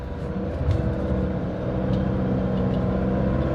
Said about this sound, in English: I'm actually unsure whether this is second gear or third gear that is just slipping away